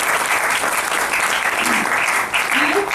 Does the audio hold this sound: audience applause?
yes